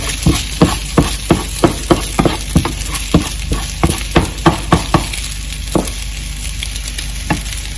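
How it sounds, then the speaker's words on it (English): Fried rice sizzles in a pan while a spatula breaks up chunks, giving a fast run of sharp rhythmic taps and scrapes over a steady frying hiss, close and loud, with the strokes thinning out toward the end. "break up any chunks of rice you see, fry it a little bit more"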